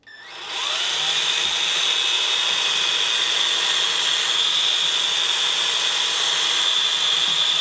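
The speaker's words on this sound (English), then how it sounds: "Drill a hole on each side, just above the ears." A power drill spins up and runs continuously at a steady high whine for several seconds drilling a hole in a resin mask, close and loud, with no voices.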